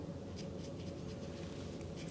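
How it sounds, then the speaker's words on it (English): A dry watercolor brush drags scratchily across paper while pine cones are painted, a faint, close, continuous rasping texture with soft, irregular strokes and no talking. "Do you hear how scratchy my brush is on the paper?"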